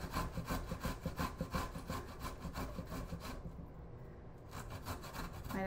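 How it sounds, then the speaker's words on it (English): Fresh ginger is rubbed against a kitchen grater in quick, rhythmic scraping strokes, loud and close. The strokes pause briefly partway through and then resume, with no talk. "what I really like to do with ginger is grate it, because I feel like it releases more of the ginger juices"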